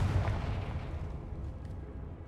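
Confringo fire spell blast from the Hogwarts Legacy video game, a deep booming explosive burst at the start that rumbles and slowly fades, with no talk.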